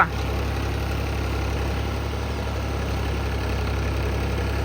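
A tractor idles while stuck in mud in a waterlogged field, its steady low diesel drone and rumble continuous and close throughout, no speech.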